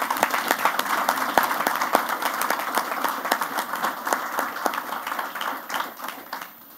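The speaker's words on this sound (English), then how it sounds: "give the principal another round of applause for a" Applause at a university campus council meeting after the principal's report, a dense crackle of many hands clapping steadily for about seven seconds, fairly close, then thinning out at the end.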